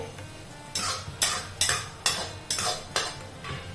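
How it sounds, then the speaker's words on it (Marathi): A metal spoon scrapes sautéed onion and garlic out of a pan into another dish in about seven sharp, rhythmic scrapes, close and clear, with no talking. "बघा इथे मस्त असा कांदा आणि लसूण छान असा परतवला गेलेला आहे आता मी हे दुसऱ्या डिशमध्ये काढते"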